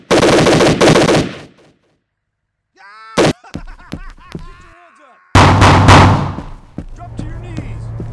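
Automatic weapon bursts in the SWAT 3 cooperative mission at Whitman Airport, loud rapid volleys at the start and again near the end, with sharp single shots and radio-style voices in the gap between.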